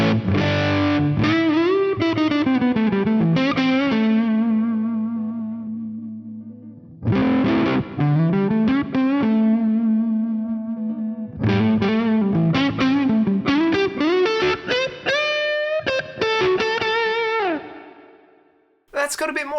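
A Les Paul guitar model on its front pickup, voiced by a Boss SY-1000, plays distorted phrases with sustained, bending notes, a pause near seven seconds, then more busy runs that fade out.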